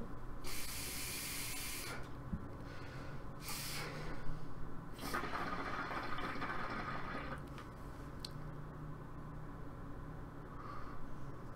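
Hookah smoke is exhaled in several breathy, hissing bursts, each lasting one to two seconds, with quiet gaps between them and a soft background hum.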